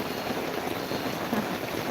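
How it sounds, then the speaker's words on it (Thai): Rain drumming steadily on a thin roof, a dense continuous patter with no pauses, moderately loud and close, with no talking. "ลำบากนิดนึงนะคะฝนจะรั่วหมดเลยนี่"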